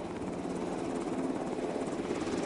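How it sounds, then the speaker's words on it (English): Military helicopter flying, with a steady, loud rotor thump and engine roar that fills the whole stretch continuously, alone without talk. "Helicopters, rather than parachutes or gliders, could deliver forces deep behind enemy lines."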